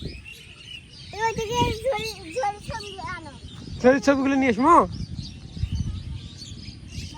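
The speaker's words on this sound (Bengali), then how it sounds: "আর কত পাখি।" Birds call and chirp in short bursts over village paddy fields ahead of rain, with wind in the background and a person briefly speaking.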